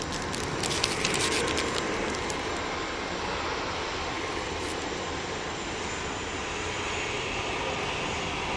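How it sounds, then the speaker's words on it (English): A Ryanair Boeing 737-800 departs Manchester Airport for Gothenburg, a steady, moderately distant jet engine roar that holds evenly throughout, with faint clicking early on and no talk. "that Ryanair is off to Gothenburg using 737-800"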